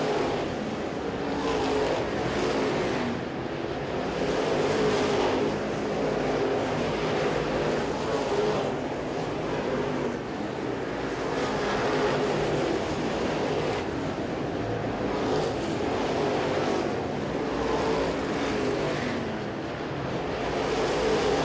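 Race cars run around a dirt track during a feature race, heard as a steady, distant engine roar that swells and fades as cars pass, with wind noise across the microphone.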